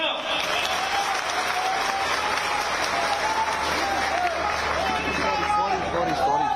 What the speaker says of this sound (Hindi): जरा मुझे डबरा और चीमक की ताली सुनाओ